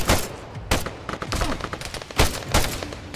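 Machine gun fire in the military game ArmA 3 sounds out as loud, sharp bursts and rapid volleys of shots, with quieter distant gunfire between them and no talk heard.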